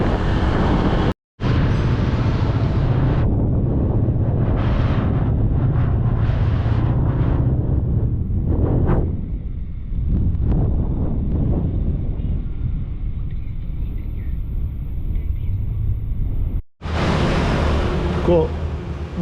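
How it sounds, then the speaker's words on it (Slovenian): Scooter ride on a long paved road in Bali, with heavy wind buffeting the microphone in a loud continuous roar over the engine hum, and speech occurring in the clip. "Medva se peljeva s skuterjem"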